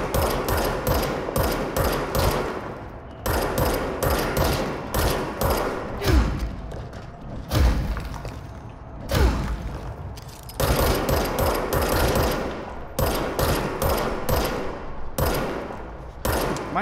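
Dense, loud gunfire rattles through a firefight in the video game Control, with near-constant rapid shots and booming impacts that pause briefly twice before resuming, and no talking.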